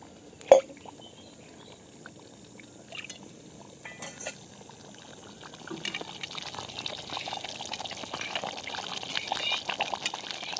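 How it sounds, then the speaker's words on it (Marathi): Bubbling liquid grows steadily louder and busier toward the end, after a sharp knock near the start; a pot of prawn curry coming to a vigorous boil outdoors under open sky. "अगदी जोरात कोळंबीच्या कालवनाला उकळे आली"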